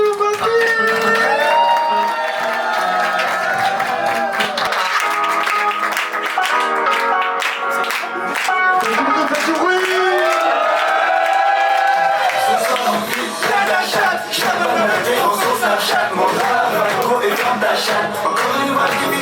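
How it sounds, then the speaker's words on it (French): A small group claps and cheers in a lively indoor setting after an MMA-themed challenge, scattered hand claps mixed with shouts and chatter, voices talking loudly over the noise throughout. "Et on applaudit Sandy,"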